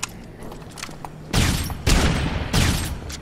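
Weapon fire from the Dead Rising 3 video game on Nightmare Mode, a flame-shooting gun: three loud, broadband blasts arrive about half a second apart, each leaving a short roar of fire, after a quieter stretch of game noise.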